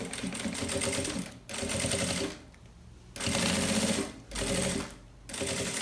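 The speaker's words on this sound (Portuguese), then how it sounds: "E vou passar aqui a costura, ó. Costuro." Close sewing machine stitching a seam on a fabric blouse organizer, running in several steady bursts of rapid mechanical clatter separated by brief pauses, with no voices.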